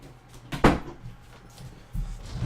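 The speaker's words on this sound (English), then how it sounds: "I'm gonna have to close my door because my dog's going crazy." A door swings shut with one sharp close thump, followed by a quieter knock-like bump a moment later against a faint low hum.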